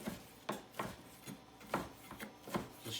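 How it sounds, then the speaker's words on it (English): Knife chopping leftover bacon on a cutting board, a handful of soft, close, irregular thuds over a faint background hum, with no talking. "So we take all the leftover bacon that we didn't make the weave out of, and we're going to chop it up."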